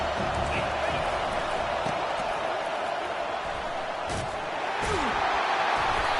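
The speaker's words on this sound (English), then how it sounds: "This crowd bringing the energy and noise early." Stadium crowd at a football game, a broad steady roar of many voices with a few sharp thuds and claps rising out of the din, heard from within the stands.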